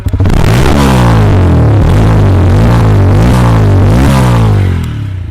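A TVS Apache RTR 160 4V motorcycle engine revs hard up close, its exhaust rising and falling through several loud throttle blips over a throbbing idle before cutting off near the end.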